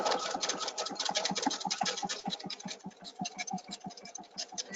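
An EPIC 2 sewing machine sews tapered satin stitches with a rapid, even mechanical clatter of needle strokes that pulses steadily throughout, close and moderately loud.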